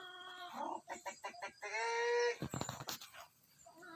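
A chicken clucks close by in a rhythmic series of short calls, then gives a longer drawn-out cackle, followed by scattered rustling and a few more brief clucks.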